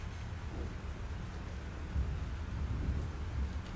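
Thunderstorm in the video game Life Is Strange: steady heavy rain with a deep, rolling thunder rumble that swells midway, continuous and enveloping with no voices.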